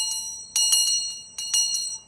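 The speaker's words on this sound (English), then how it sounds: "part of the routine is to have a bell or a gong, and you can use this sound and do either 3 rings of bells" A bell for a meditation routine rings several times, bright sustained strikes with long ringing tones, repeated at roughly even intervals, close and clear with no talk.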